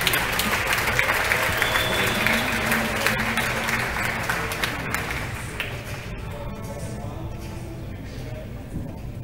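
A crowd applauds at a school athletic signing event, dense continuous clapping that fills the room and slowly thins toward the end, with a few louder nearby claps and some faint voices under it.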